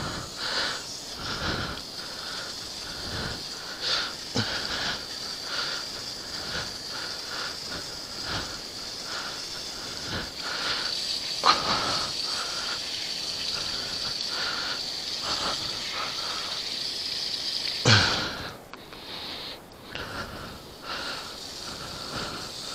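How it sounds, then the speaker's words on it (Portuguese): Pressurized water jet hissing steadily onto the drive chain of a Kawasaki ZX-3R motorcycle, a loud continuous spray broken by short pulses and ending with a few sputtering bursts, with no voices. "Agora vamos bater o jato de água."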